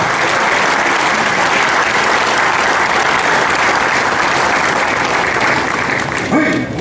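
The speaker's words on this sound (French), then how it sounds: "je vous prierai une fois de plus d'applaudir pour le professeur" Dense, loud applause fills the hall from a large audience at the inauguration of a football federation headquarters in Cameroon, clapping for Professor Joseph Ogola. The applause is continuous and close, and a brief voice cuts in at the very end.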